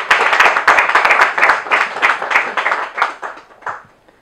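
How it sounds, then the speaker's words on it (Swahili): Loud, close applause from an audience at a university event in Dodoma cheering young people, with distinct individual claps in a brisk rhythm that gradually thins and fades toward the end. "Naomba makofi kwa ajili ya vijana wetu."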